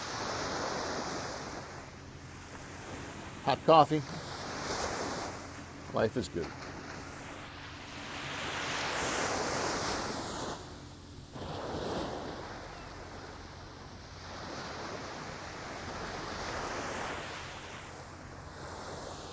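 Calm Atlantic Ocean waves wash ashore at Deerfield Beach, Florida, at sunrise, making soft, slowly rising and fading surges with light wind. Someone speaks briefly.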